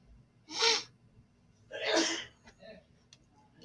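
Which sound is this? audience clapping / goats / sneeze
sneeze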